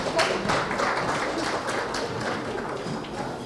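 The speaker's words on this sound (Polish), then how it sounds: "Brawa, drodzy Państwo, brawa." Audience applause at a Polish book-launch interview event, a soft, steady patter of many hands clapping at moderate distance, fairly quiet and continuous throughout.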